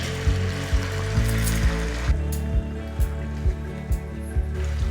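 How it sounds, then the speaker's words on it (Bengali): Chopped onion and sugar fry in a pan for a mushroom and pea masala, giving a steady close sizzle broken by regular knocks and scrapes of a stirring spatula. "পেঁয়াজটা আমার হালকা লালচে করে ভাজা হয়ে গেছে।"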